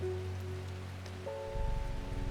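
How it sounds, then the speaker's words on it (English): Soft, steady rain patters in the video game Strange Horticulture over sustained low game-like tones, the rainfall growing a little louder and denser near the end. "it's a cozy rainy season"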